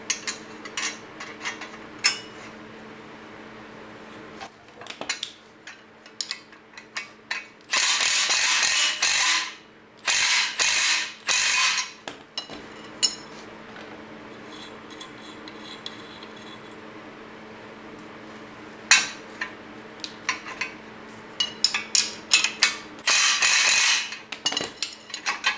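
Ratchet working a bolt out of a Jeep LJ mount, bursts of rapid metallic clicking separated by pauses, clinks and handling noise in a quiet garage.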